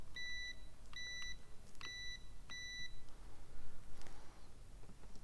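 A multimeter in continuity mode gives four short, shrill beeps at a steady pace while the wiring of a 54-module distribution board with RCBOs is tested, followed by faint handling noise.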